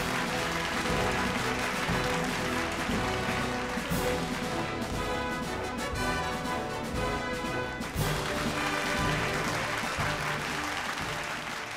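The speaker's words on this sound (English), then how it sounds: "Let's hear a round of applause and some cheers for Yota Data Services." An awards-ceremony audience applauds steadily and loudly throughout, with a dense wash of clapping and some cheering that holds at a constant level from start to finish.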